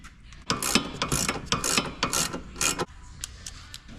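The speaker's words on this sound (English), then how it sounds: "little ratchet" A small ratchet turns a socket while replacing sway bar links on a Ford Focus ST, giving a few seconds of rapid, close pawl clicking in quick back-and-forth bursts before it stops.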